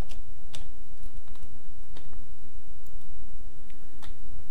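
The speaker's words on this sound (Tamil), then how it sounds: "ஒரு ஒரு எழுத்தாக வந்து நான் டைப் பண்ணிகிட்ருக்கேன்" Keys tap on a computer keyboard while letters are entered one at a time in Photoshop, sparse scattered clicks sitting over a loud, steady background noise.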